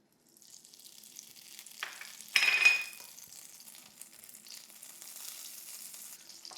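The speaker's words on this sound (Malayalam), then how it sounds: "ഇപ്പോൾ നമ്മുടെ പാൻ നന്നായിട്ട് ചൂടായി വന്നിട്ടുണ്ട്. നമുക്ക് അതിനകത്തോട്ട് ഒരു ടേബിൾ സ്പൂണോളം ബട്ടർ എടുത്തു കൊടുക്കാം" A tablespoon of butter dropped into a hot pan, a sharp loud sizzle bursting up and then settling into a quieter, continuous crackling fry with no voices.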